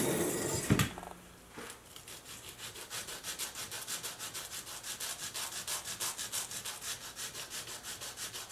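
Rapid, steady back-and-forth sanding rasps over the small surface of a classical guitar rosette to take off the burrs, close and fairly quiet, following a sharp knock near the start.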